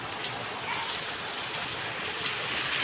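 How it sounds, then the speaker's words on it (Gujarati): Steady broadband patter of rain falling, constant and moderately close, with no clear voices over it. "તો જો વરસાદ આવે."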